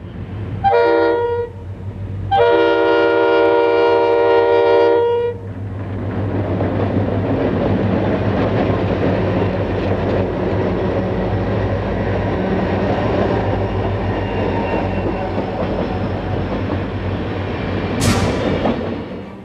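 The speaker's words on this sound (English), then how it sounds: "Approaching was a Burlington Northern truck trailer train, led by SD 40-2 number" Burlington Northern truck trailer train led by SD40-2 diesel locomotive number 7195 approaching a crossbucks-protected grade crossing: two loud horn blasts, then a steady rolling rumble and wheel noise as it passes close by.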